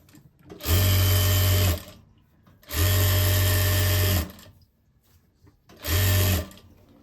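Sewing machine stitching the back seat seam of full elastic leggings in three separate loud bursts, each a steady motor hum lasting one to one and a half seconds, with quiet gaps between runs.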